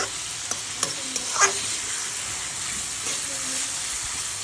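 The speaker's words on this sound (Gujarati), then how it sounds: "બકડિયામાં બધો વઘાર માર્યો છે" A Gujarati tempering for pulao sizzles and hisses steadily in a pot while a spoon stirs it, with a few faint scrapes early on; close and continuous, with no talking.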